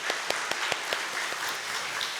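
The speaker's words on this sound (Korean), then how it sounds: "박수로 축복하겠습니다." A church congregation at a Korean worship service claps in blessing, a steady rhythmic patter of hands at moderate volume with a few sharper individual claps standing out.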